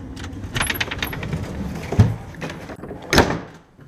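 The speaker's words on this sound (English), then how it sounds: "This door on here is pretty old." An old wooden door of a small house being handled and opened, with a jangle of keys, scraping creaks and a couple of sharp knocks near the end, heard close up.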